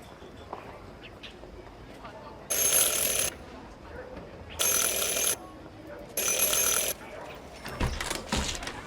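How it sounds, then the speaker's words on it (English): A service bell in the Syberia game world is rung three separate times, each ring a bright, sustained metallic tone lasting under a second, spaced evenly apart over quiet background ambience. "Ring 3 times for urgent matters."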